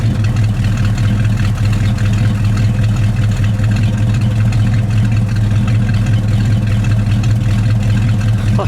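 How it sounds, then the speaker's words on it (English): A 1971 AMC Hornet SC 360 V8 with factory dual exhaust from the Go package idles steadily, a loud, even low rumble close by with no talk over it. "let me just listen to it idle for a second"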